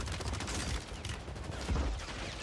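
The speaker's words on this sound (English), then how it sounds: "Oh, they're shooting at me now." Dense, continuous gunfire in the Fortnite video game, a steady barrage of overlapping shots at moderate volume with no clear pauses.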